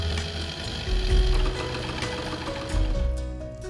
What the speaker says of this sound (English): Run water through the machine to test if it is flowing freely